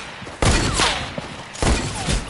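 Two bursts of gunfire in a shooter video game, loud and close, each a dense rattling volley roughly a second long separated by a short pause, with no talk over them.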